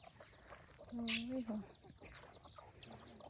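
Jungle fowl on a farm, one bird giving a short, loud squawking cluck amid quieter scratching and faint calls from others, with someone speaking softly in the background.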